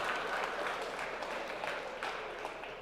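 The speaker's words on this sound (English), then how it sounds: "Please give them a big round of applause for all of the volunteers" Audience applause fills a hall at the Rhode Island FIRST Tech Challenge robotics championship, a steady, moderately distant clapping that carries on evenly throughout.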